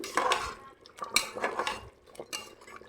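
A spoon stirring ground coriander and cumin into a pot of goat head curry, with repeated metallic scrapes and clinks against the vessel in an irregular rhythm, close and fairly clear.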